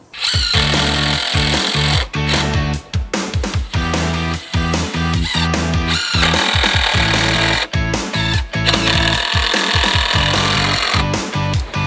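Nails are driven into joist hangers while a patio deck is built on TuffBlock footings, a loud, rapid series of sharp percussive bangs and bursts, close by, with brief pauses between runs.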